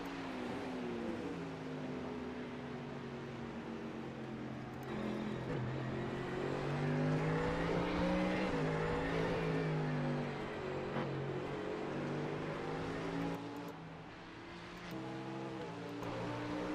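Porsche race car engine in the iRacing game during the 24 Hours of Spa, a steady loud engine drone rising and falling in pitch through gear changes and corners, with brief dips, continuous throughout.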